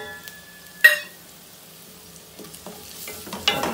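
Fenugreek greens being lightly sautéed in a pan for a potato masala: a soft, low sizzle with a sharp metallic clink near the start, then sparse spatula scrapes and taps, close and otherwise quiet, with no speech.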